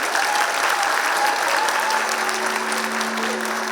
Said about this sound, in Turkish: Bütün kadınları alkışlıyoruz burada.